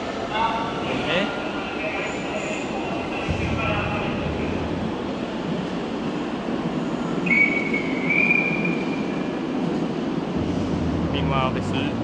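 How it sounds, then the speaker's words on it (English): An S-Bahn train pulls into a station with a broad rumbling roar and wind-like rush, a brief high squeal of wheels or brakes in the middle, and someone talking over it. "Meanwhile, there's another S-Bahn service pulling in"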